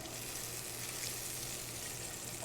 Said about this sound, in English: we're going to get our garlic sauteing